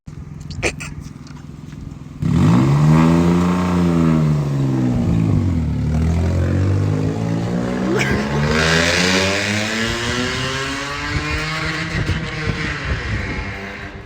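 A car engine revs up and down in long sweeping pulls, its exhaust roaring loudly and close, with a faint voice under the start.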